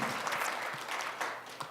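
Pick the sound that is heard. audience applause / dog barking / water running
audience applause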